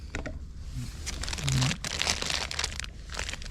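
A plastic stuff-sack used to keep a sleeping bag dry crinkles and rustles as it is handled during winter hiking gear packing, a close, continuous crackling with louder crumples in the middle.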